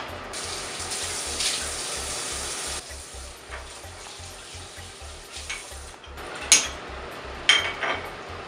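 Steady running tap water splashes while a facial mask is rinsed off the face, with a few louder splashes and hand sounds near the end.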